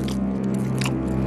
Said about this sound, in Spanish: mastica todo el día.